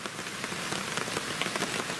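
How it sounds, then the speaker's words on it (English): Steady rain falls on a wet woodland camp, pattering densely and evenly on surfaces close by, with no voices. "As you can hear, it's still raining"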